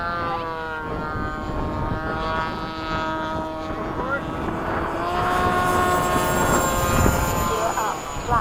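Jet aircraft taking off at Bayside, F-5 or F/A-18 flying in formation, with a steady engine roar and a rising whine that grows louder over the last few seconds, heard from inside the cockpit beneath the crew's radio chatter.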